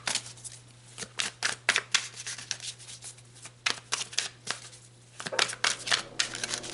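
Large tarot cards are shuffled by hand in quick riffling bursts, crisp close-up flicks in irregular clusters with short pauses, with no talking.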